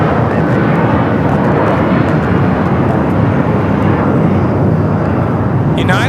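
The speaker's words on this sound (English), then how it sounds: "United Airlines 2221 taking off to Houston Intercontinental on the 757-200" A United Airlines Boeing 757-200 departs LAX for Houston Intercontinental, its engines producing a loud, sustained broadband roar that holds steady throughout.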